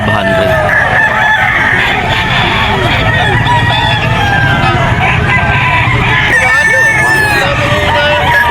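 Gamefowl roosters of Sweater and Gilmore bloodlines crow loudly over one another at the Bocaue pet market. Several birds call in overlapping cock-a-doodle-doos and clucks, with busy crowd noise and faint voices underneath.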